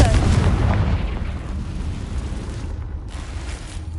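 Confringo blasting spell explosion in a witch adventure video game, a loud booming burst at the start that rumbles and fades away over several seconds.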